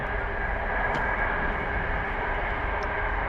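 An airplane passes over a fishing lake during an angling championship final round at Barston Lakes, heard as a steady, moderately loud broadband engine drone that holds throughout without any talk.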